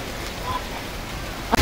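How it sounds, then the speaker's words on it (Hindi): Heavy rain pours steadily outdoors, a dense, even hiss with a short knock near the end and no speech. "कितनी तेज बारिश हो रही है"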